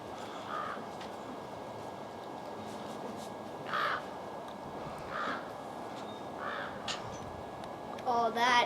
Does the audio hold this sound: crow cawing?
yes